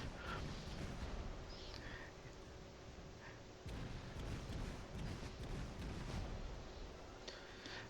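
Dense, continuous naval gunfire from the Atlanta cruiser in World of Warships, a dull rumbling barrage of rapid shots and distant booms with steady roar throughout, no voices.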